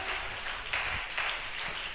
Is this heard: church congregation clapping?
yes